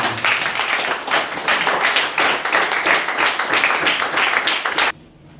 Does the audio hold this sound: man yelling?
no